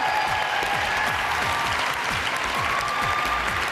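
A studio audience at a live ice-dancing TV show applauds loudly and steadily, a dense wash of clapping with a few sharper individual claps standing out, sustained throughout.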